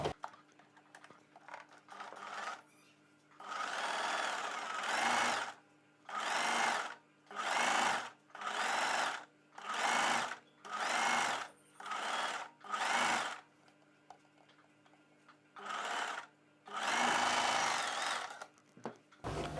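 A sewing machine stitches a double-folded cross piece for a kurti neck in a string of short, loud bursts of motor whir, about ten runs of a second or so each, separated by brief pauses.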